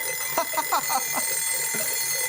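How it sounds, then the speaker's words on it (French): Many cartoon alarm clocks ringing together in an animated firefighter show, a rapid jangling bell chatter that builds and overlaps under a steady background hum, moderately loud. "Vous savez ce que ce bruit me rappelle? Un réveil."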